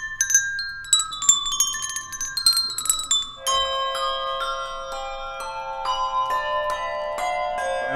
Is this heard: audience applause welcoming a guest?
no